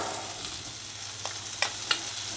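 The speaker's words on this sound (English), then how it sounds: "Now the butter will sizzle, which is fine" Butter sizzles in a hot pan with a steady crackling hiss, a few sharper pops and utensil clicks standing out near the end.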